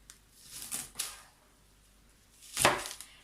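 A kitchen knife slices vegetables into strips on a cutting board for tabbouleh, a few soft, close cuts spaced apart, the last one crisper and louder, with quiet between.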